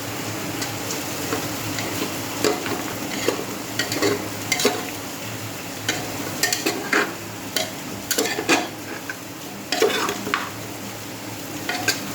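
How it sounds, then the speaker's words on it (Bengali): Goat mutton being sautéed in a pan, sizzling steadily while a spoon stirs and scrapes the metal in irregular clinks and knocks, close and fairly loud with no talking. "যে দেখো মাংস কষানো হয়ে যাচ্ছে"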